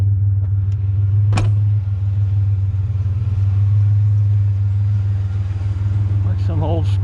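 A truck drives down a street with a steady, loud low engine rumble heard from close by, plus a brief sharp knock early on and faint voice-like sounds near the end.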